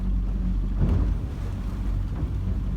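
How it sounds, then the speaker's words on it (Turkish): Steady low rumble of a fishing boat on choppy sea off Istanbul, with wind buffeting the microphone and a continuous engine-like drone throughout. "Biraz dalgalı. Çok dolaşacağımızı sanmıyorum. Çünkü bayağı sallıyor tekneyi."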